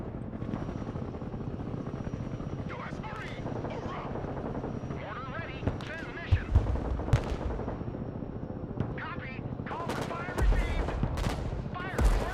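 Gunfire in the video game Broken Arrow, bursts of machine-gun and heavier weapon fire over a constant rumbling engine drone, with sharp impacts growing busier toward the end and voices talking over the battle.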